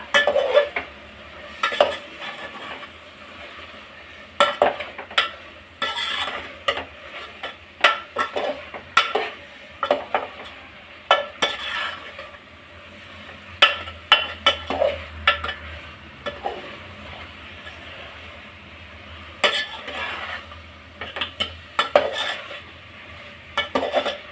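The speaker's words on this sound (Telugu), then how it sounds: "మష్రూమ్ వేసుకొని తర్వాత బాగా మిక్స్ చేయాల" Mushrooms being stirred in a pot for mushroom pulao, repeated scraping and clinking of a spoon against the metal over a low sizzle, close, irregular bursts of stirring with short pauses, no voices.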